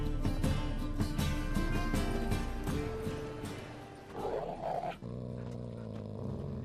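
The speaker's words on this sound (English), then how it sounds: "Just beware of the dogs." Dogs growling in The Witcher 3, low rumbling snarls under game music with clip-clopping hooves, rising briefly near the end before the sound shifts.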